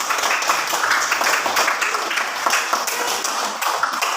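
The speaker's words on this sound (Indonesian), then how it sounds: "Tepuk tangan untuk kelompok 2." Students in a classroom clapping for a group of classmates: dense, steady applause of many hands, loud and close, continuing without pause for several seconds with a faint voice or two underneath.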